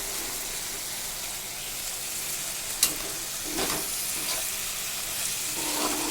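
Small fish sizzle as they fry in plenty of oil in a pan, a steady hiss with a sharp clatter near the middle and a few brief stirring bursts.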